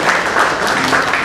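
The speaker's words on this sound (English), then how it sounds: "A big round of applause for Anush Poddar also" An audience at a professional seminar on audit trails gives a round of applause, a steady, dense wash of clapping throughout.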